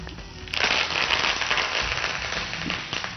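Curry leaves hit hot oil for a tempering with a sudden loud burst of sizzling crackle that stays dense and spattering for a few seconds before easing.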